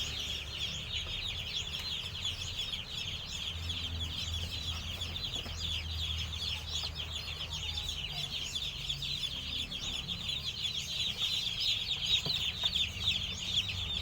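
Delivered chicks peep constantly in a dense, high chorus, fairly faint and steady throughout, with a low rumble underneath.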